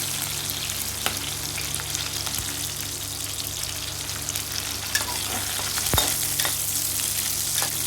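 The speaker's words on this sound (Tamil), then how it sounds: "எல்லா பக்கம் ஃப்ரை ஆகிற வரைக்கும் நம்ம అయితే கலக்கிட்டே இருக்கணும்." Ivy gourd (kovakkai) fries in oil in a pan while being stirred, a steady close sizzle broken by occasional scraping strokes and a sharper knock from the utensil.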